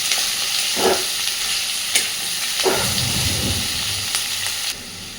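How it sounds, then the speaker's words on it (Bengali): Potatoes, onions and green chilies fry in a pan with a loud, continuous sizzle, broken by several clattering stirs and scrapes of a utensil, with no voices. "আলুটাকে আবারও সুন্দর করে ভাজতে থাকবো।"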